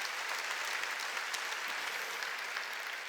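A Korean church congregation claps together during a sermon, producing a steady, dense wash of applause that holds at an even level throughout with no pauses.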